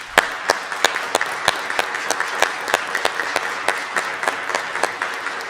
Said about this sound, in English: I just want to hear a round of applause for the group that I work with